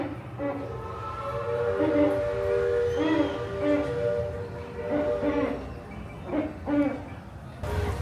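Owl hooting on Tom Sawyer Island at Disney World, a run of steady tonal hoots repeating through the clip over a busy background murmur.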